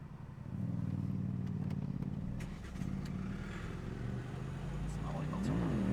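A Yamaha MT-07 motorcycle on a road near a roundabout, its engine a steady moderate rumble heard from another moving vehicle, rising slightly near the end with a brief tonal whine, under light road noise.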